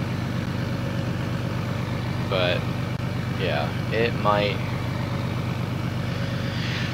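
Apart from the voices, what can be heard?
truck engine in a video game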